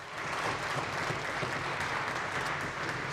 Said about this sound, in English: Please give them a warm welcome and round of applause.